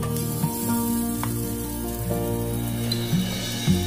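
Thalipattu cooking in a pan over a low flame gives off a steady, close sizzle and frying hiss, with a few faint clinks and scrapes over the top and no one talking.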